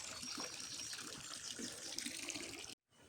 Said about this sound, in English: we've got a pump running to circulate the water